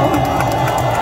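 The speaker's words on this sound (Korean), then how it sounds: "여러분 우리 한편 박수 부탁드립니다" Crowd at an outdoor candlelight rally cheering and clapping, a loud, continuous roar of voices with applause woven through it.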